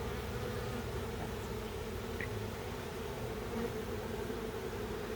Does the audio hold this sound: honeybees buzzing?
yes